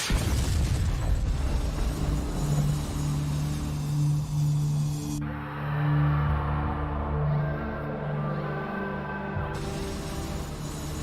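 A dramatized missile explosion destroying an airliner roars as a loud, sustained rumbling blast with a low droning tone, shifting midway into a deeper muffled rumble before the roar returns.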